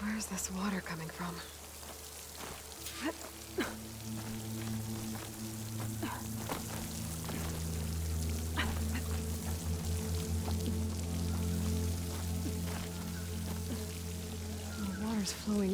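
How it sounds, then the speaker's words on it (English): Water pours and splashes steadily into a rock wall in Horizon Forbidden West, a continuous close rushing flow with scattered droplet ticks and faint murmuring voices beneath. "The water's flowing into the wall."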